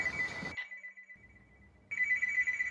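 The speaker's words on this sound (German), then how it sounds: "Da klingelt erstmal ein Telefon." A telephone in the VR game Another Fisherman's Tale rings in two bright electronic bursts separated by a short quiet pause, clear and close, with no talking.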